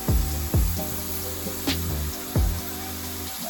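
Steak sizzling on a hot grill, a steady broad hiss with a few low thumps and clatters from handling as the meat is set down, close and fairly loud with no talk.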